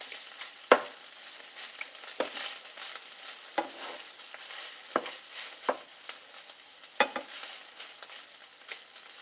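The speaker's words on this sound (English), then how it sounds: "That sounds wicked good." Food fries in a pan with a soft, faint sizzle. Sharper clatters of stirring recur every second or so, and no voices are heard.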